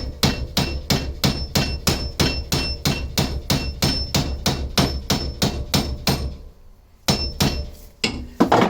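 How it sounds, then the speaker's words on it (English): A hammer batters a V12 kit car chassis in a fast, steady run of loud metallic blows, about three per second. It pauses briefly, then a few more strikes land, close and with no talk. "I can batter it with the hammer."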